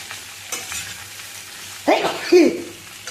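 Mixed vegetable curry sizzling in a pan while a spoon scrapes and stirs it, with a low steady frying hiss and a few louder stirring scrapes, and a brief voice heard in the second half.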